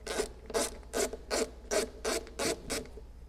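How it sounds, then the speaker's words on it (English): A Phillips screwdriver turns out the screws on a carburetor float bowl, giving eight evenly spaced rasping, ratcheting scrapes in a steady rhythm, close up and clear with no voices. "I'm going to use a Phillips head to take off the float bowl."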